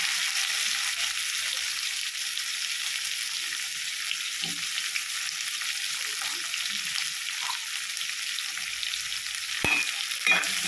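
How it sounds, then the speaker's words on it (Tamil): Sliced onions sautéing in a pan for a country-vegetable prawn curry, giving a steady, continuous sizzle and fry with occasional stirring clinks, close and moderately loud with no talk. "இப்போ வெங்காயம் நல்லா வதங்கணும்"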